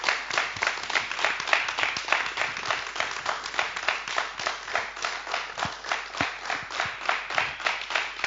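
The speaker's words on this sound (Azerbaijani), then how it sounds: "Alqışlar." Audience applause after a woman sings the Azerbaijani song "Qaragiləm" on a talent competition show, steady rhythmic clapping throughout at a moderate level with no one speaking over it.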